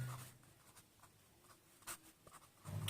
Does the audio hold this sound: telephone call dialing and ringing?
no